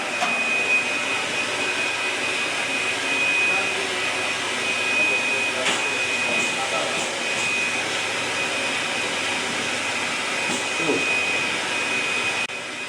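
Automatic egg-handling machine running in a modern hatchery, giving a loud, steady whirring drone without pause and a few faint clicks within it.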